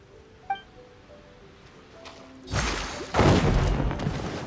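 A loud, full-bodied explosion erupts in the video game Genshin Impact after a brief metallic ping, and a second blast follows that swells into a sustained roaring rumble.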